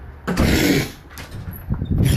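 Two rough throat-clearing bursts, a longer one followed by a shorter one after a brief pause, loud and close.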